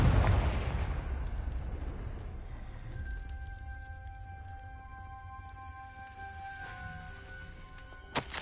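A Confringo fire spell explodes in Hogwarts Legacy: one loud booming burst at the start that fades into a long, low rumble, with soft sustained music tones underneath and a small sharp pop near the end.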